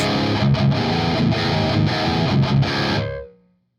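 Loud, heavily distorted electric guitar through a Peavey XXX amplifier's ultra channel with a thick metal tone, playing chugging riffs, then ringing out and fading to silence.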